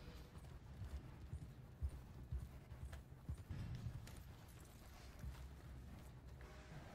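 Horse hooves clip-clop steadily in the video game Red Dead Redemption 2 during a train heist, a continuous rhythmic trot mixed with low rumbling ambience at moderate volume.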